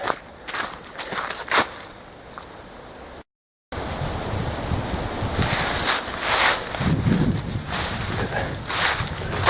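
Wind on a mountain forest path along the Nanamagari Path at Mount Kunimiyama, a broad rushing noise that grows stronger over the second half, with footsteps and a few faint bird calls nearby.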